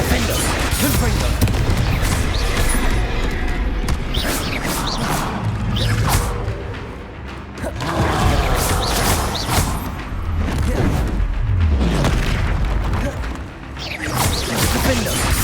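Spell-combat effects from the video game Hogwarts Legacy, including Confringo fire-blast explosions, form dense bursts, booms and whooshes that repeat loudly and almost without pause for the whole stretch.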